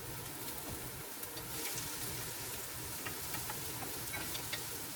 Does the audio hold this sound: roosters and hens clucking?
no